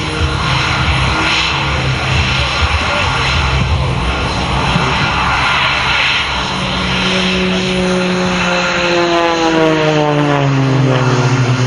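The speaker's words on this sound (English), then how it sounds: "She is flying as the Edge 540, the choice of many champions for its ultimate capability to do anything that you want." Edge 540 aerobatic propeller airplane performing at an air show, a steady loud engine drone with rising and falling pitch sweeps as it maneuvers, continuous throughout with outdoor crowd ambience beneath.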